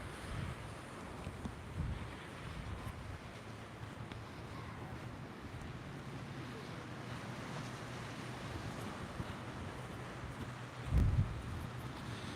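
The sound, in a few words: waves on the lake shore with wind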